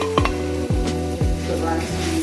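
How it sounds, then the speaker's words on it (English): Rice fries in a pan with chicken broth, giving a steady close sizzle broken by a few rhythmic scraping stirs of a utensil against the pan. "Me personally, I love frying the rice like this."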